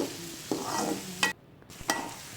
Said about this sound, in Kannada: ಈರುಳ್ಳಿ ಚೆನ್ನಾಗಿ ಕೆಂಪಾಗೋವರೆಗೂ ಫ್ರೈ ಮಾಡಿ ಮೆತ್ತಗಾಗಬೇಕು ಈರುಳ್ಳಿ